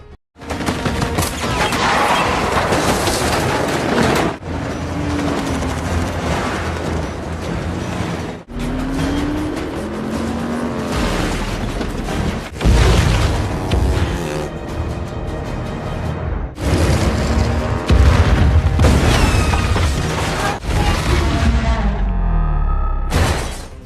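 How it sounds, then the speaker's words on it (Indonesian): Repeated loud landmine blasts and crashing debris over roaring car engines and music in the film Fast and Furious 9, a chaotic action sequence of explosions in quick succession, sections separated by abrupt cuts. "Mereka pun masuk ke wilayah ranjau yang akan meledak dengan waktu setengah detik."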